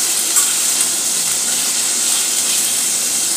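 Potatoes for dum aloo fry in oil over a low flame, giving a steady, dense sizzle that holds evenly from start to finish with no talking.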